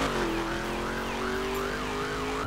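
A police siren wails in the driving video game The Crew, its rising and falling tone repeating steadily over a continuous engine and road drone, loud and close throughout.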